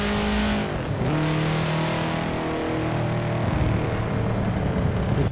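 Race car engines in the video game Forza Horizon 4 roar and rev continuously with shifting pitch as vehicles accelerate, accompanied by occasional tire noise, loud and dense throughout.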